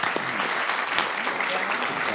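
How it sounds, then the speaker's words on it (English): City council meeting audience in Sacramento breaks into dense, sustained applause, many hands clapping steadily through the whole stretch in a large room with a faint voice underneath. "A big round of applause for the hard work every day."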